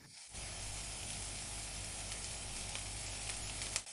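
Fried rice made with leftover rice hisses in a hot pan as the ingredients are mixed, a faint, continuous sizzle that starts abruptly and carries on steadily with a small knock near the end, no voices.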